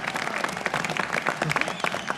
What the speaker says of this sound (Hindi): डॉक्टर साहब की तालियां बजा दें डॉक्टर साहब के लिए